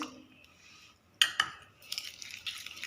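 A spoon clinks against a bowl while turmeric, ajwain, cumin and lemon juice are mixed together, giving a few bright metallic taps and scrapes after a quiet start, close and fairly soft.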